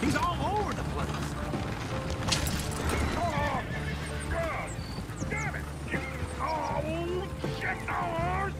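Several horses in the video game Red Dead Redemption 2 neigh and whinny in repeated high, wavering calls over a continuous busy background, with people talking throughout.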